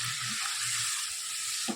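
Chickpeas hit hot tempering oil for chole and sizzle in a loud, continuous hiss that runs nearly two seconds before cutting off abruptly.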